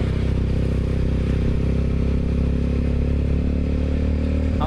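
A motorbike riding through the streets of Vientiane, its engine giving a steady, close, moderately loud drone with a little road clatter and no clear revving.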